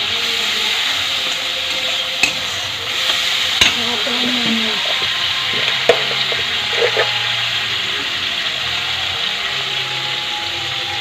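Chicken kosha with tomatoes frying in a pan, a steady sizzle running under occasional scrapes and clinks of a spoon stirring, close and moderately loud, with no speech.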